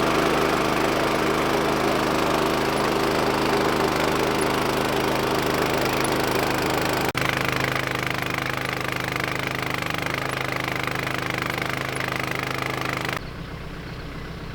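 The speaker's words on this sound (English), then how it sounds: "I need to jump on the trencher and trench these lines in and get the poly ran." Trencher engine cutting trenches for sprinkler lines in a yard, a loud, continuous rough engine roar with heavy chattering vibration, dropping to a lower idle at the very end.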